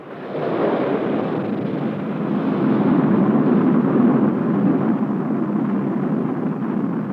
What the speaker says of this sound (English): On the 6th of May, the Polaris was fired.